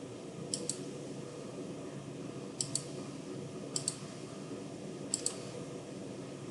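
Computer mouse clicks while drafting in AutoCAD come in four close double-click pairs spread over several seconds, sharp and near against a low steady room hum, with no talking.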